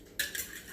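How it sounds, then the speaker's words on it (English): Butter melted in a bowl is whisked briefly, a near metallic clatter and scrape of the whisk against the bowl, quiet and without talk. "I'm just gonna whisk it a little bit to"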